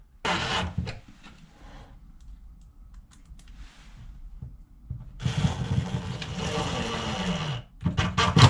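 Power driver running screws into homemade rustic cabinet doors inside a tiny log cabin build, a short whir at the start, a quiet stretch of small knocks, then a longer sustained buzzing drive near the end.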